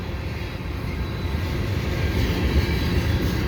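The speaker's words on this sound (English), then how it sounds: "CSX train." A CSX freight train rolls past at Dorval on CN track in the late afternoon, making a steady, broad rumble that swells slightly as the cars pass close by, with no voices.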